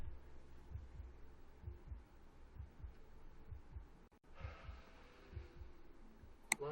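Heartbeat in the video game Immortality: soft, low, regular thumps repeating steadily under a faint hum, with a brief sharp click near the end.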